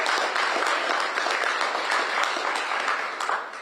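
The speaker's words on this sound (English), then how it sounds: "just big support and applause" Crowd applause at a city youth engagement announcement, a full roomful of clapping with a few sharper claps standing out, holding steady and then thinning slightly at the end.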